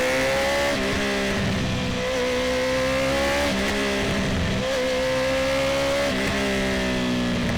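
Honda CB650R motorcycle with a full Akrapovic exhaust and quickshifter riding through busy traffic, its engine note droning steadily and rising and falling through repeated gear changes, loud and close throughout.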